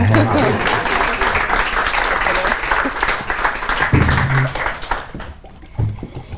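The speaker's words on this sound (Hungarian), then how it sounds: "Még egy pici tapsot kérek szépen Tanner Annának" Steady audience applause at a talk show rolls on for several seconds, then thins out and fades near the end, with a few voices mixed in.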